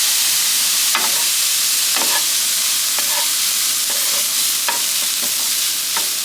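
Extra dry vermouth sizzles and bubbles in a hot pan over a grill fire, a loud steady frying hiss broken by brief scraping stirs at roughly one-second intervals, with no voices.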